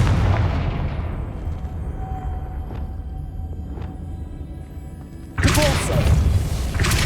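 A Confringo blasting spell in Hogwarts Legacy: a loud burst at the start decaying into a hum, a few faint thuds, then a sudden heavy explosive blast near the end.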